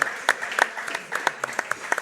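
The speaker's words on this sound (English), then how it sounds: "huge round of applause for our first competitors in the" Audience applause at a jiu-jitsu tournament, a steady patter of many hands with sharp individual claps popping out, moderately loud and continuous for a couple of seconds.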